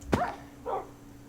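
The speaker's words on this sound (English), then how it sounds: "This dog is not gonna last, man." A dog in the game TerraFirmaCraft, a Minecraft mod, gives two short barks about half a second apart, the first sharper and louder, the second softer, with no talk.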